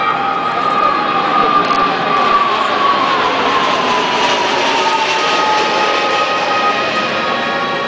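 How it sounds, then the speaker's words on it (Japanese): A Japan Air Self-Defense Force U-125A search and rescue jet roars steadily overhead at an air display at Twin Ring Motegi, its engine whine sliding gradually lower in pitch as it passes, loud and continuous with no talking. "水色のジェット機が侵入してきました。 これは U125A という救難捜索機です。"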